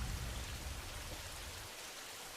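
Rain pouring steadily, a soft hiss of drops on surfaces with a brief low rumble at the start, heard alone without voices.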